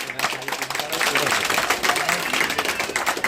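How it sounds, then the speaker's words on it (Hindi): A crowd applauds loudly and steadily at a coaching class opening ceremony, dense clapping filling the whole moment with voices mixed in. "भाई एक बार जोरदार तालियां"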